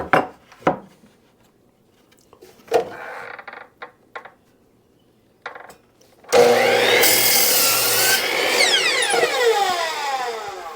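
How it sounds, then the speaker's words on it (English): A miter saw spins up and cuts through wood for a trivet, a loud, sustained whining roar of the blade biting in, after several scattered wooden knocks and handling clatter. "we're just going to take this over to the miter saw here"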